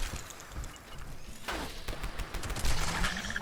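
Sustained rapid automatic gunfire from the Pepper Shaker weapon in the video game Fallout 76, fired at Mirelurks, forms a dense, continuous barrage with no pauses and no speech.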